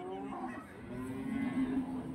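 Simmental cattle mooing at a livestock market in Rogojampi, a sustained low call heard fairly close amid the background bustle of the market.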